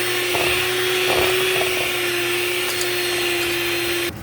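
Electric mixer whirring steadily through peanut butter cookie dough, a loud constant motor whine with a few soft knocks from the bowl, then cutting off abruptly near the end.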